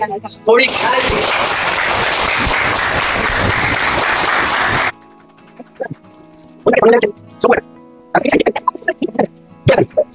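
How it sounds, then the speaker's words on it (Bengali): Loud, dense applause from a large audience at a performance and award event, cheering a challenge winner, filling the first five seconds before cutting off; then scattered short bursts of claps or voices over quiet background. "দেখে যাচ্ছে জোরে হাততালি।"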